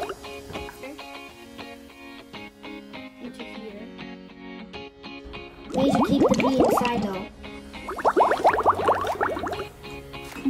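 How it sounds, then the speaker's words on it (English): Water splashes and gurgles out of a box in two bursts, close by, after a stretch of quieter sounds with little ringing tones. "I think we can just pour out the water"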